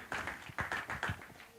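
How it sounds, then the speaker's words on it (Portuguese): A church congregation claps in a quick, even rhythm of several faint beats during a worship service. "Aplaude o Senhor Jesus, irmão."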